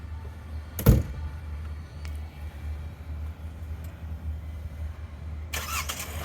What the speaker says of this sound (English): vehicle starts right up